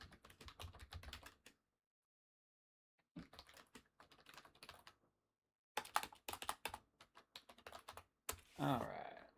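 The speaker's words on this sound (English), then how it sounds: "Just typing this out." Bursts of rapid computer keyboard typing with pauses between them, close and fairly quiet, ending in a short louder clatter.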